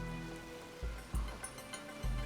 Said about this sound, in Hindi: मौसम खराब है, बारिश हो रही है